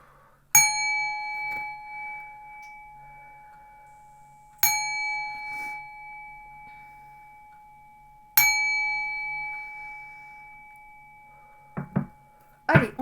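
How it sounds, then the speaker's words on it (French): Three resonant gong strokes spaced about four seconds apart, each a sharp loud attack ringing out in a long sustained decay in a quiet room, followed by a few faint knocks and a brief rustle at the end. "On y va, 3 coups de gong."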